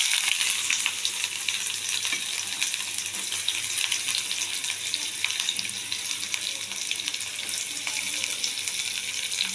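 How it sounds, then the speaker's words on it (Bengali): Onion and tomato fry steadily in oil with cumin and bay leaf for an egg curry, a dense, continuous close sizzle with faint stirring throughout. "পেঁয়াজ টমেটোটা দিয়ে আমি ভাজা ভাজা করছি"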